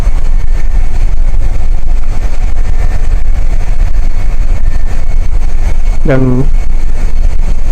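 A generator running in the engine room of a large gas tanker ship produces a loud, constant roar that fills the space while someone speaks over it.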